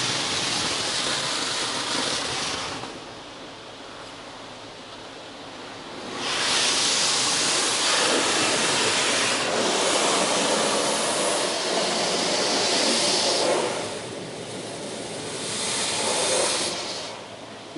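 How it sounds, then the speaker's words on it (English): High-pressure rinse jets in an automatic car wash blast water in loud, broad hissing surges that swell and ease as the spray passes over the car, with no voices. "Okay, so we're getting the high pressure rinse."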